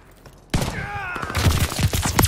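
In Call of Duty: Vanguard multiplayer, Death Machine gunfire breaks out suddenly after a quiet start as a loud, rapid burst of shots that continues to the end.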